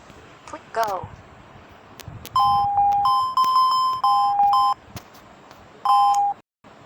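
A handheld mini memory game device plays a sequence of short, clear electronic beeps at two alternating pitches, some held longer, close and loud, with brief clicks and a faint voice before the tones begin.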